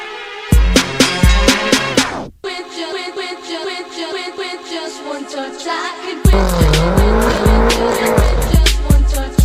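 A rear-wheel-drive BMW M5 F10 with 560 horsepower revs hard and skids, its tires squealing in long, loud howls against a roaring engine, with a brief drop to near silence partway through.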